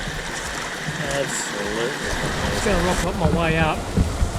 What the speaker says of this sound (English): we've got this beautiful little freshwater stream just meandering down